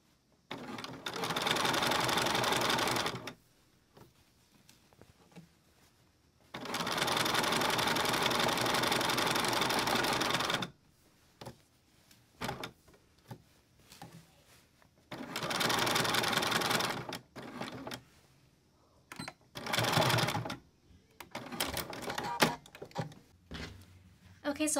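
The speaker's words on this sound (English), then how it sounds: "I'm just going to stitch a little slower all the way around" A sewing machine stitches bias tape binding around a small armhole in four separate runs, each a steady whirring buzz starting and stopping, with quiet pauses and soft handling sounds between them.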